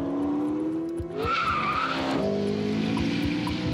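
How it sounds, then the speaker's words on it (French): A McLaren 650S brakes hard on a race circuit, tires squealing loudly as the engine note drops, with the active rear wing rising as the car slows sharply. "au freinage, pouf, l'aileron qui se lève et la voiture qui s'arrête"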